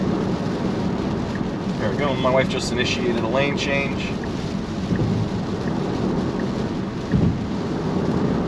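Steady wash of rain and road spray on a moving Tesla on Interstate 5 southbound, constant throughout, with someone talking over it for part of the time.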